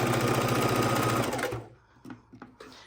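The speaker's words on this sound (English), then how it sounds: "then I'm sewing it across" A sewing machine stitches across fabric for a quilted bowl cozy, running with a loud, close, even whir for about a second and a half before stopping, followed by a few light handling clicks.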